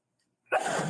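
A single sharp sneeze bursts out after a moment of silence, close and loud, trailing off into a breathy exhale.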